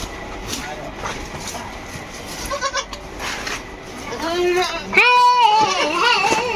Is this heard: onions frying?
no